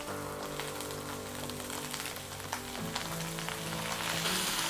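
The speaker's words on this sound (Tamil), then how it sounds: "இப்போ நம்ம இப்போ இந்த புதினா இலையை போட்டுக்கோம்." Fresh mint leaves dropped into a hot pan for Tamil-style mint chutney crackle into a loud, steady, close-up sizzle that holds evenly throughout, with no voices.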